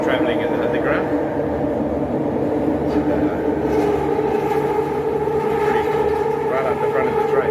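Steady, loud rumble of an underground metro train in Kuala Lumpur travelling through a tunnel, heard from inside near the front, a continuous drone with rail whine and no pauses.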